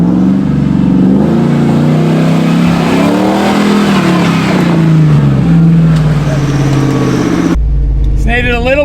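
A Toyota 4Runner with an LS engine revs hard in sand, a loud, close, sustained engine roar that rises and falls for several seconds before cutting off abruptly near the end.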